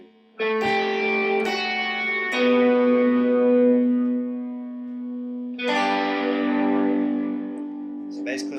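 Electric guitar part with effects from a worship song's post-chorus section, played with sustained, echoing tones and a few picked attacks, a short pause partway through, then ringing notes again, loud and close.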